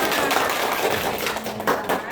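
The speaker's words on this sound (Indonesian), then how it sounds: "tepuk tangan lagi buat kita semua" Pupils in a classroom clap together during a religious studies lesson on Asmaul Husna, a dense, steady patter of hand claps lasting about two seconds at moderate loudness, with a teacher's voice faintly mixed in.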